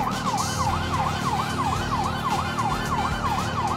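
Police sirens wail in GTA V, a loud continuous up-and-down siren cycling steadily throughout over a rumbling engine and traffic bed.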